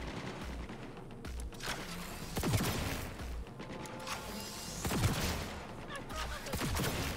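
Gunfire in the video game Cyberpunk 2077 comes as a few sharp bursts among mechanical clatter and game noise.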